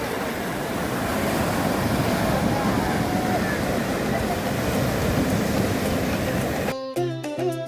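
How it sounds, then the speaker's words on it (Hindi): Strong ocean waves surge and crash onto the shore along a coastal highway, a loud continuous roar of surf and wind that ends abruptly in a brief burst of music. "एकदम से देखते देखते इतनी तेज की लहरें आई"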